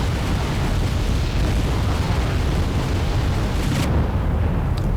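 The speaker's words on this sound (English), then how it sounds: "the 2 Danas shoot and destroy my recon units" Dana self-propelled howitzers fire and destroy recon units in the strategy video game WEE: a dense, continuous rumble of explosions and booming artillery, loud and unbroken throughout.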